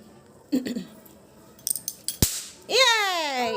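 Diwali firecrackers burst in a sharp crack or two, followed by a whistling, sputtering firework, with voices talking around them.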